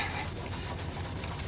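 Hand sanding on a Ducati 888 fairing around the scoop areas, a steady close scratchy rubbing with faint periodic strokes, with no one talking.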